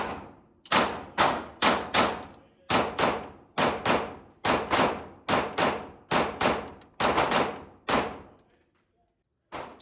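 Shots fired one after another from a Glock G47 pistol with an aftermarket trigger on a shooting range, about thirteen loud, sharp cracks at a steady, unhurried pace, each ringing out briefly before the next.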